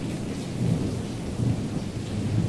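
A thunderstorm with steady rain, heavy rainfall hissing continuously while deep thunder rumbles roll through in low swells, loud and enveloping with no voices.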